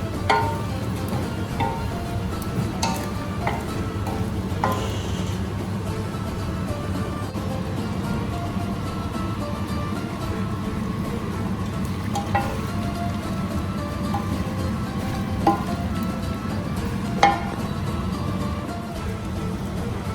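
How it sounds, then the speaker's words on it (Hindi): Chicken karahi cooks in a pan as spices are stirred in, giving a steady frying sizzle with occasional faint clinks of a utensil against the pan throughout. "अब हम इसमें सारे मसाले डाल देंगे। अच्छे से मिक्स कर लीजिए।"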